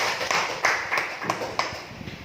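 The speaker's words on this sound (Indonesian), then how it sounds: "tepuk tangan dulu dong untuk Bapak Ibu semua" Workshop participants at a teachers' training session clap together, producing a short run of uneven, fairly close hand claps with a few sharper individual claps standing out.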